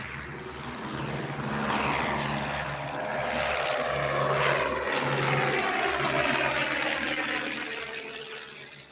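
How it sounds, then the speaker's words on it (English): A de Havilland Chipmunk T-10 propeller aircraft engine drones loud and steady, swelling slightly in the middle, as a small plane passes close by. "It was the humble de Havilland Chipmunk T-10."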